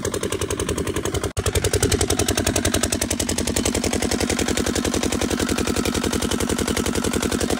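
Diesel engine driving an irrigation water pump in a farm field, a loud, steady rapid chugging thud that runs without a break, with one brief dip partway through.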